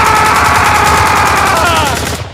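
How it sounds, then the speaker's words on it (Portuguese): Loud, sustained automatic gunfire from a jungle shootout in a Punisher video game, rapid overlapping bursts rattling continuously and close for over two seconds before cutting off. "E durante o tiroteio,"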